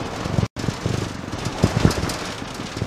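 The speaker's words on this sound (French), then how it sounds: "pardon pour le bruit, mais alors vraiment, la route là est très abîmée." Camper van rolling over a badly damaged road, giving a continuous rough rumble with irregular bumps and jolts and a brief dropout near the start.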